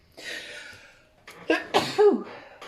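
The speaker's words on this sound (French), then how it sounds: "je vais éternuer là" A person sneezes once, a breathy hiss followed by a few sharp voiced bursts, close and fairly loud with no other talk.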